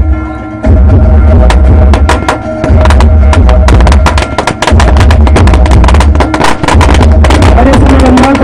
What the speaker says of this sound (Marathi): कृपया फटाके चालू करायचे.